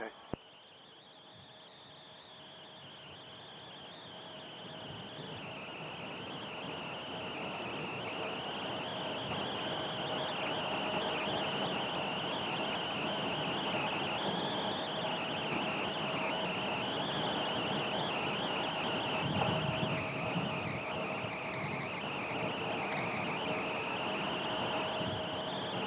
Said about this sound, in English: We have a Delta connection SkyWest headed to LAX, taxiing right there onto the runway.